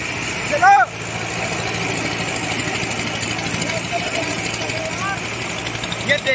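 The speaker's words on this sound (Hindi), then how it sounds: "ये तुम्हारा ट्रैक्टर स्टार्ट हो चुका है" A tractor stuck in a wet field runs with a steady mid-pitched engine drone throughout, with a brief louder burst near the start and a voice speaking over it.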